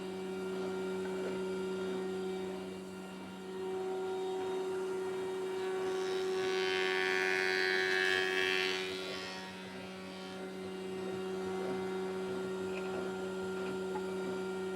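A jointer planer takes a first pass over a bent wooden board. A steady machine hum swells into a louder cutting whir for a few seconds, then settles back to the hum.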